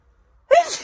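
A single sharp sneeze bursts out close by after a moment of near silence, a brief loud explosive burst.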